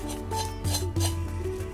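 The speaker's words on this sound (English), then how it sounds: "I'm just sanding and removing the excess." Rhythmic abrasive strokes of sanding off excess decoupage paper from a glass platter, close and moderately loud, three or four rasping passes in quick succession with no voice.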